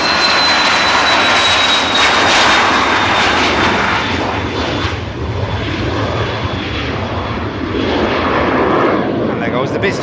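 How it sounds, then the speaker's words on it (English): A business jet takes off from Manchester Airport, its engines roaring loud and continuous with a high whine, holding strong before easing slightly as it climbs away. "And there goes the BizJet to Ibiza."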